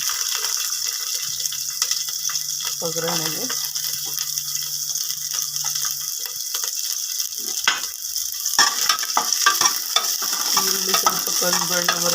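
Onions sizzle in a couple of spoons of hot oil for tempering in a cooker over a medium flame, a steady frying hiss with stirring scrapes and brief clatter throughout, loud and close, with no talk.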